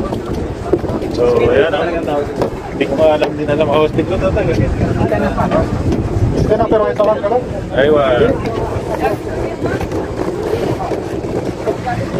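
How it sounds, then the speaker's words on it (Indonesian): Speedboat ride on Dumat Al Jandal lake: steady loud engine drone with wind and water rush throughout, under frequent close talking and exclamations. "Sasakay na kami ngayon sa speedboat."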